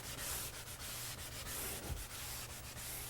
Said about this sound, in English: Find another sharp spot and keep sanding again.